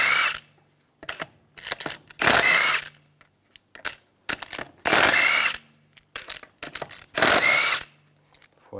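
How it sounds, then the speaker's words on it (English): Impact wrench fitted with a 17mm socket spins lug bolts off the front wheel of a BMW 325Xi, three long loud whirring bursts with ratcheting clicks and small metallic clinks between them, close up and with no talk. "use a 17mm socket, take the lug bolts out."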